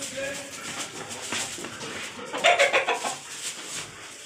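A chicken clucks in short, rapid bursts nearby, mixed with background chatter and light outdoor noise.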